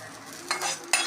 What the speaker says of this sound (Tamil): கடுகெல்லாம் நல்லா பொரிஞ்சிருச்சு